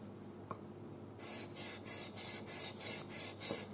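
A kitchen chef's knife is drawn across a whetstone in about eight steady, rhythmic rasping strokes, close and clear, following a quiet start with a couple of faint taps.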